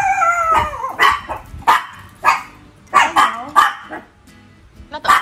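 Several small Chihuahua puppies bark and yip in short, repeated high bursts close by, an uneven rhythm with whimpery squeals between barks.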